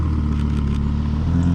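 An Audi R8 accelerates down the road behind a dealership, its engine a steady, loud low rumble close by that holds throughout with no talk.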